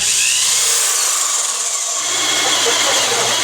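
A loud, steady high-pitched grinding and whine of a hole saw cutting through a metal computer case panel, continuous throughout with a brief dip in the low rumble.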